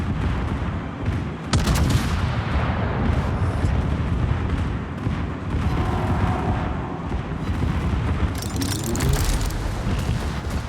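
Warship secondary guns in World of Warships fire a rapid series of booming reports, overlapping blasts and rumbling shell impacts that come close together in irregular bursts and stay loud throughout.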